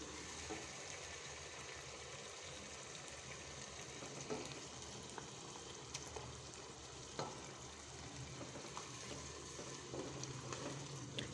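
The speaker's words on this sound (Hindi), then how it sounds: "अब इसमें मैं अदरक और लहसुन का पेस्ट डाल देती हूँ।" Ginger garlic paste sizzles and fries in a pan with softened tomatoes for mixed veg masala rice, a steady close crackle with occasional stirring clinks and no talk.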